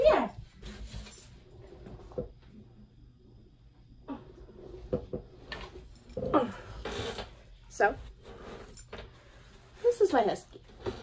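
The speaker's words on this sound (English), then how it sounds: "My husky." A husky whimpers and yips in short, scattered bursts, loudest near the start and toward the end, with a person talking over it indoors and a door-like clunk in between.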